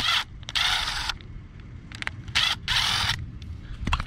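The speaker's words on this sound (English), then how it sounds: "Next, we'll take these two screws off of here to take the bowl off. So we're going to use that 9/32 nut driver again." A 9/32 nut driver backs out the bowl screws on a plastic Briggs & Stratton lawn mower carburetor, giving close, short scraping and ratcheting bursts separated by brief pauses.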